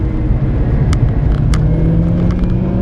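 A four-wheel-drive Golf rally car engine rumbles steadily and loudly from inside the vehicle, a low droning growl with a few sharp clicks and ticks on top.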